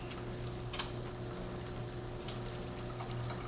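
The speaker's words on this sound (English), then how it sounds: "I'm gonna wash my hands" Hands being washed under a running tap at a sink, a steady broadband wash of flowing water with faint splashes and a constant low hum beneath, with no talking.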